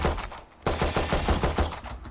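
Pistol sidearm shots in Valorant, the video game: after a brief quiet moment, a quick string of about eight sharp, evenly spaced cracks rings out close and loud, with no voices.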